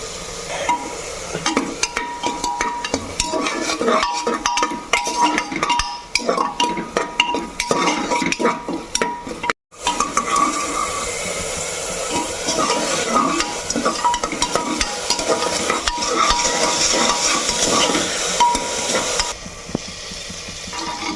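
Grated ginger and chopped green chillies stir-frying in a pan, a continuous close sizzle under repeated scraping strokes of a metal utensil against the pan, loud and busy, with a brief gap midway.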